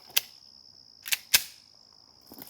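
Pistol shots from a SIG P320 fitted with a linear compensator at a shooting range: three sharp, muffled cracks in an uneven rhythm, followed by a fainter fourth, over a constant high-pitched whine, with no talk.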